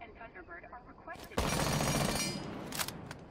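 SMG at a shooting range in Rainbow Six, a sudden burst of rapid, loud automatic fire lasting about a second and a half, followed by a few shorter shots, after a voice talking.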